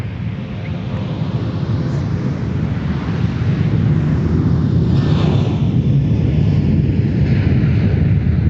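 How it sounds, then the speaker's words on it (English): A Sun Country airliner departing at MSP airport, a loud, sustained low jet-engine roar building steadily with wind buffeting the microphone. "Speaking of Sun Country, yes, we're going to get a Sun Country departure."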